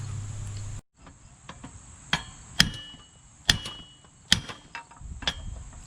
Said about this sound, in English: Then get a chisel and a sledgehammer.